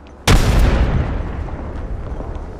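A frag grenade goes off in the video game Apex Legends, one sudden loud boom that hits hard and then rumbles and fades over the next two seconds, with no voices.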